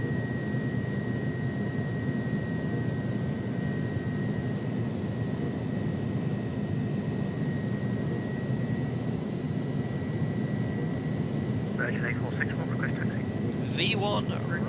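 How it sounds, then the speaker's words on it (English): Airbus A300 jet engines spool up at takeoff thrust during a takeoff roll, giving a steady, loud, broadband roar that holds throughout, with a few brief higher tones near the end. "takeoff thrust is set"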